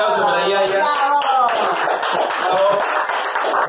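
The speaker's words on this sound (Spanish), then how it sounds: "Un aplauso para Seba y Nico" A small family group at a Christmas gathering claps in a short burst of applause that follows cheerful voices and lasts a couple of seconds, close by in a room.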